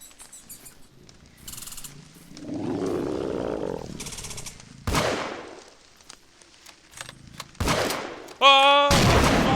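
Gunfire aimed at squirrels in the game Squirrel Stapler, with several sharp loud shots and bursts scattered between quieter game sounds and a whining tone.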